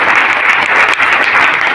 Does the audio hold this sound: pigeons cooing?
no